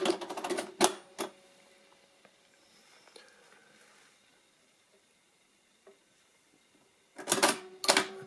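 Direct II mechanical calculator with its keys and internal register working: two bursts of sharp clattering mechanical clicks at the start and end, separated by a long near-silent stretch with a few faint ticks.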